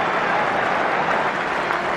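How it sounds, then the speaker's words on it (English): A rugby stadium crowd at an England versus New Zealand international applauds a replaced England player, a broad, steady roar of clapping from a large distant crowd with no break. "Applause for Danny Grewcock"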